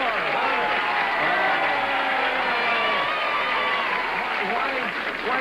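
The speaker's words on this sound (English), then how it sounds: "Why are the people in the blue section applauding for him?" Studio audience applause at a 1975 CBS daytime game show, a dense steady wash of many hands clapping with crowd noise for the whole stretch, loud and close with no pause.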